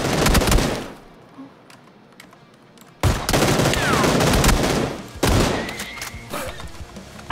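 Shotgun blasts in a battle royale video game, three loud booming shots spaced a couple of seconds apart with ringing tails, near and dominant, with faint background game noise between.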